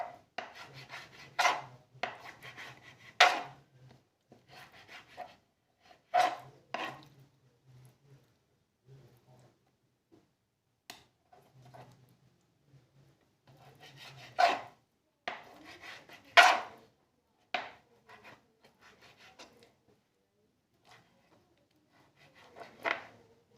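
A sharp knife chops potatoes on a board in irregular bursts of quick taps and scrapes, with pauses between clusters, fairly close and quiet.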